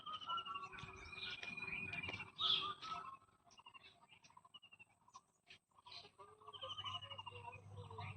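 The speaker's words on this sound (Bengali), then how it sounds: "সকাল সকাল উঠে এমন পাখির ডাক" Scattered bird chirps and calls ring out faintly in a quiet outdoor setting, some sharper trills standing out against soft, distant background noise.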